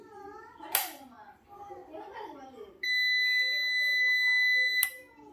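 A steady high-pitched electronic beep from a computer UPS being switched on sounds for about two seconds after a click, with talking in the background before it.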